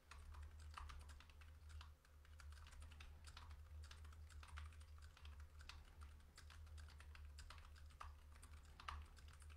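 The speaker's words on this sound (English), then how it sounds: "The last test would be the keyboard test." Soft typing on a computer keyboard recorded through a FIFINE microphone, quick irregular key clicks over a low steady hum, quiet and close.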